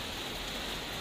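Rain falls in Pematang Siantar as a constant broadband wash of drops, loud and uniform with no talking over it.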